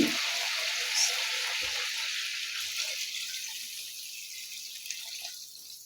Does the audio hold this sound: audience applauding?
no